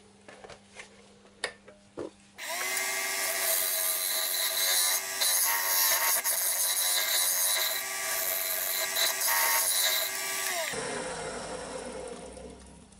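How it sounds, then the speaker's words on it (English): A scraper cuts along the bottom and up the side of a wooden bowl spinning on a lathe. A steady, close, loud scraping hum lasts about eight seconds. Soft handling clicks come before it and it ends abruptly. "a few nice scrapes along the bottom and up the side, like this."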